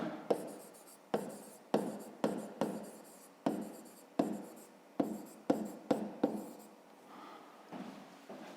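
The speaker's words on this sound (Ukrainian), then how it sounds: "пишемо" A pen writes by hand on paper while working a fifth-grade maths exercise on a triangle's perimeter: a series of short, close scratchy strokes, each starting sharply, roughly every half second, faint and alone.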